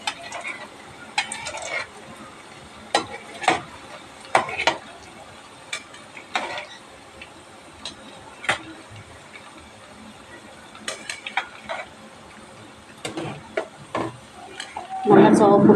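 Rava gulab jamun balls being gently turned and stirred as they fry in hot oil in a pan, with soft sizzling and scattered light utensil clinks and scrapes, louder near the end.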